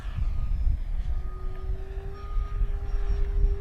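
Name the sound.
FMS P-40B radio-controlled model airplane flying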